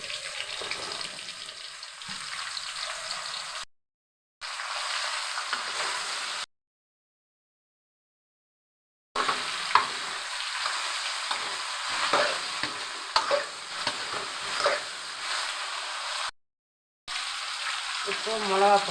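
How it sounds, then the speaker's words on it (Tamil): Eggplant fries in a pan with garlic and onion, a bright sizzle with scraping stirs, broken by several short silent gaps as the frying carries on; a voice speaks briefly at times. "இப்போது இந்த கத்திரிக்காய் போட்டுக்குவோம்"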